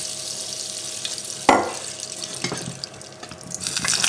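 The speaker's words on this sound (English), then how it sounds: "I'm going to drain them off and let them steam dry" Water from boiled potatoes pours and splashes into a sink with a sudden rush, followed by gurgling, dripping and clattering as liquid drains away.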